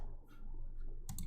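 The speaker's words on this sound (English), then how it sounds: "Here, I'll just go over here and click on this." A pair of quick computer mouse clicks sound near the end, sharp and close, over a low background hum, while someone selects a player on a fantasy basketball lineup site.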